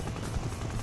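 A video game helicopter gives off a steady, loud rotor drone with a low, rumbling thrum that stays constant and close throughout.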